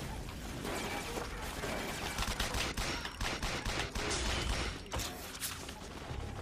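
Rapid bursts of gunfire from a weapon in the shooter video game 50 Cent: Blood on the Sand, a dense, continuous fusillade of sharp shots with crashes, fairly quiet overall.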